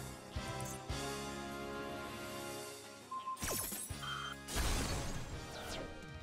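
Smashing Ground card activation in Yu-Gi-Oh Master Duel, a digital card game: a sustained musical tone gives way to a sweeping whoosh and a heavy crashing impact, followed by a second bright crash burst.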